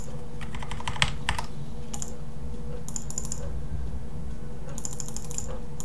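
Keys clatter in quick uneven bursts of typing on a computer keyboard, with short pauses between runs, set against a steady low background hum.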